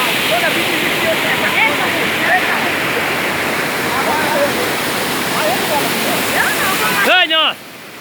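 Waterfall pouring with a loud, constant rushing roar, close by, with voices and children's shouts mixed faintly into the noise before it cuts off near the end.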